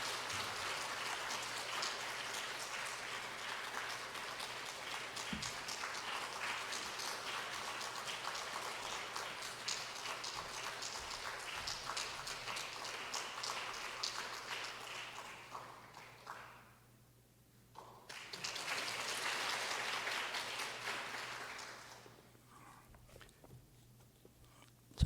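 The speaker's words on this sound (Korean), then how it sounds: "장로님 박수로 환영해 주시면 고맙겠습니다" Church audience applauding to welcome an elder as guest speaker at an evening service, a steady dense wash of clapping that dips, swells briefly again, then thins out.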